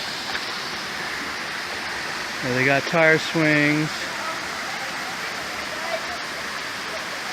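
A small waterfall on a trail in the Philippines gives a steady, broad rush of falling water that runs throughout, with a person talking briefly over it partway through.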